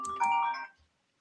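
A phone alert tone played through a computer: a short, bright, tonal chime of one or two rising notes that rings for under a second and then fades into silence, with no talking.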